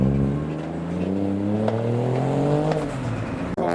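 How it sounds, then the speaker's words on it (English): Cars rev loudly and close by as they drive out of a large memorial car meet, engines climbing in pitch, with one car briefly cutting out near the end. "Cars are leaving, making some noises as well,"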